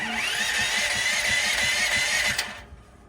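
A portable generator engine cranks with a rapid rhythmic chugging under a rising whir, then cuts off abruptly near the end.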